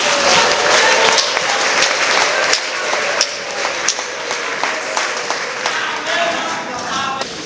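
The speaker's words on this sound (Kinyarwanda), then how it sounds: "Mwami turagushimiye, tugukomeye amashyi." A church congregation claps together in dense, sustained applause that stays loud and steady throughout, with sharper individual claps popping through the wash of hands.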